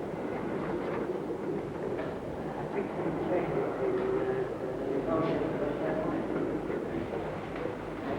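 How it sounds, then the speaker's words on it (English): The North Briton passenger train rolls into York station, a steady rumble of wheels and carriages sustained throughout, with faint squeals and clanks over a continuous noisy bed and some voice in the background. "There's the North Briton coming in now"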